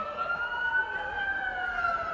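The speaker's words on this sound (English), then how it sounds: "I'm sure you can hear the sirens in the background," A wailing siren at a Christmas parade rises and falls steadily in the distance, with a faint hum of traffic beneath it.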